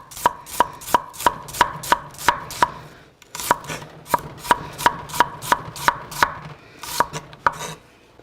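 A whole onion chopped on a cutting board, steady knife strikes in quick even runs of about eight beats with a short pause between, loud and close, no talk.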